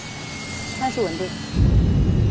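Jet airliner engines spooling up to takeoff thrust, a broad roar that swells into a heavier low rumble near the end, while a voice talks briefly over it.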